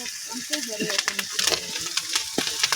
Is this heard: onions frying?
yes